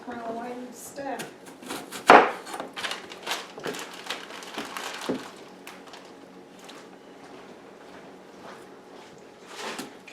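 A knife cutting potatoes into large slices or dice on a board: a series of close, sharp chopping knocks at an irregular pace, one louder thud early on, with a voice talking over part of it.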